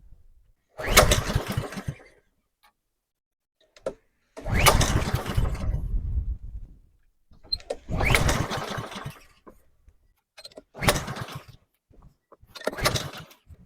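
Honda lawnmower engine being cranked with the choke on, five separate pull-start bursts of rough mechanical noise, each about a second or two long, separated by silence, near and loud, with no sign of the engine catching.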